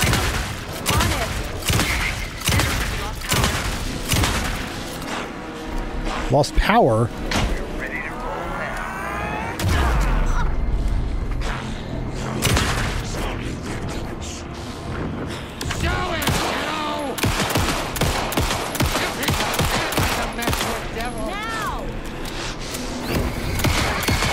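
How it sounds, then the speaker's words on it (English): Gunfire rings out in the video game Alan Wake 2, repeated sharp shots in rapid bursts with booming impacts, interrupted by short spoken lines and lulls before more shooting resumes. "Anderson, pin him down with gunfire for me to get the light up."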